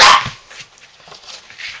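A seven-week-old Norwegian Elkhound puppy lets out a loud, close bark followed by a few softer yips and whimpers, with no voices present.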